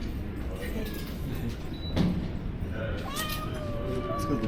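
Cats meow a few times, with some drawn-out wavering cries, heard close but modest in level over a steady background hum, while a person talks now and then.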